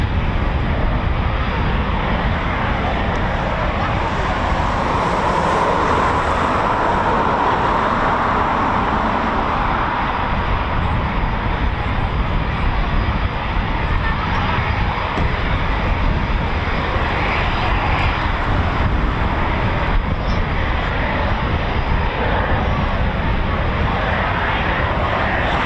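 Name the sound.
Eurofighter Typhoon FGR4 jet engine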